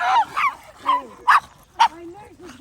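Small dogs out on a walk at Lilydale Lake yip and bark in a quick run of high, sharp bursts with whimpery tones between, close and loud, while people talk nearby.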